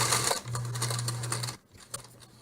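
A sewing machine runs in steady bursts of rapid stitching while hemming the corner of a pocket, pausing briefly midway and then starting again, close and clear with no talking.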